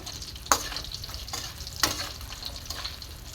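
French fries and chicken deep-frying in hot oil in a pan make a dense, continuous sizzle, broken by a couple of sharp stirring clatters close by; no one speaks.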